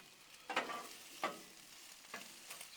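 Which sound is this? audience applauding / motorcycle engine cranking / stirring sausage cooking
stirring sausage cooking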